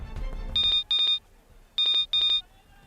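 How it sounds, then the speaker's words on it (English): Cell phone ringtone chirping in two pairs of short electronic trills with a pause between them, clear and close in a quiet room. "Stanley's cell rang"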